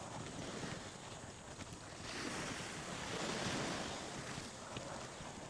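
Surf washing onto a beach, a steady broadband wash that swells in the middle and eases again, mixed with wind rumble on the microphone, with no voices.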